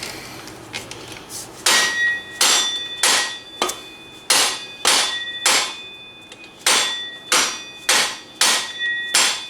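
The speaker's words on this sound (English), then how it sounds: "This is where your dead blow comes into play." A dead blow hammer strikes a Yamaha Banshee axle bearing in a series of about a dozen loud, close thuds with a slight metallic ring, spaced unevenly with short pauses between blows.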